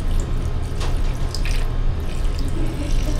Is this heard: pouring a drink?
yes